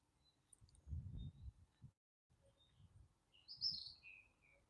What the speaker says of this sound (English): Listen to the sound of the birds chirping.